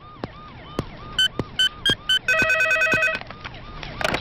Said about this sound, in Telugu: మీకు ఫోన్